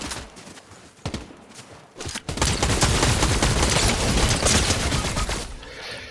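Rapid bursts of gunfire in the battle royale video game Fortnite, sparse cracks at first, then a dense, loud, sustained volley that fades near the end.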